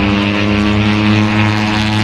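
At the 2023 MotoGP Bharat race, a MotoGP racing motorcycle screams at full RPM on the limiter, a loud, close, steady high-pitched engine whine with dense harmonics and no talk.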